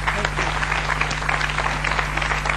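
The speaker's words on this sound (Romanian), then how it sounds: "Nu mai aplauze." Television studio audience clapping after a blues song on a Romanian music program, a continuous even wash of applause over a steady low hum.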